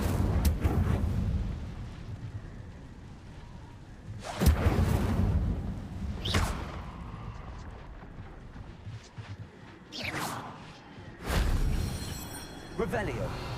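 In Hogwarts Legacy, a video game, the Incendio fire spell is cast: a series of deep whooshing blasts and booming bursts spaced several seconds apart over a rumbling background, with a voice speaking now and then.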